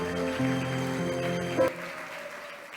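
An audience claps during a Christmas camp session while sustained music tones ring underneath, then the clapping and music cut off sharply partway through and only a quieter tail remains.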